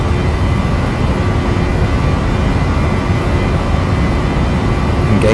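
Airliner climbing out on takeoff in the Prepar3D flight simulator, a steady loud broadband engine roar with low rumble that holds constant throughout, with no voices over it.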